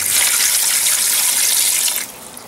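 Water from a fish tank pours into a strawberry planter, a steady broad gush lasting about two seconds, then easing off into a softer trickle. No voices.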